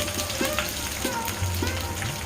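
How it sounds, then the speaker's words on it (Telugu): Steady crackling sizzle of tempering seeds frying in hot oil for sambar, a continuous hiss with small pops throughout. "తాలింపు గింజలు చక్కగా నూనెలో మగ్గేలా"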